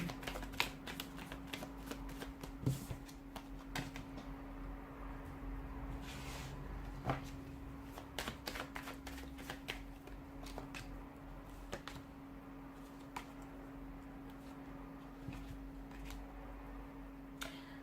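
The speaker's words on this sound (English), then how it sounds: "give the cards a shuffle" A deck of tarot cards is shuffled in a quiet room, the crisp riffles and slaps coming in irregular bursts at close range over a low steady hum, with no talking.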